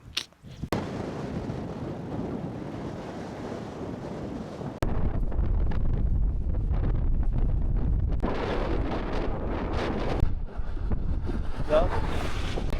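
Strong wind buffets the microphone while cycling in Chile, a continuous roaring rush that grows louder partway through, with brief voices over it.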